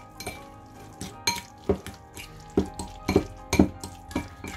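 Eggs get mixed in a bowl, the utensil knocking against the sides in quick, close clinks at an uneven rhythm, with no voices.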